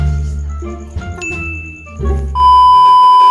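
A bright notification-style chime rings out after a soft musical intro, its clear bell-like tone sustaining loudly to the end with no voices.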